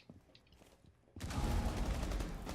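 Burst of heavy gunfire erupts suddenly during a hard breach in Rainbow Six Siege, loud, dense and sustained after a quieter stretch of faint clatter and movement.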